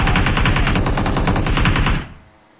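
Rapid automatic gunfire in the mobile battle royale game PUBG Mobile, a loud, close, evenly spaced burst of shots lasting about two seconds before cutting off into a quiet tail.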